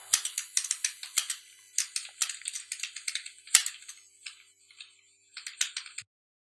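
Rapid bursts of keystrokes on a computer keyboard while text is entered in MS Word, clicking in quick irregular runs with brief pauses, a longer gap near the end, then a final flurry, close and alone.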